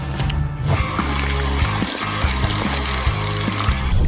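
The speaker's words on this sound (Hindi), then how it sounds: "मुझे स्पैगेटी को तोड़कर ब्लेंडर में डालना है, फिर उसमें पानी भरना है।" Water is poured into a blender holding broken spaghetti, a continuous splashing fill heard close up over steady background music.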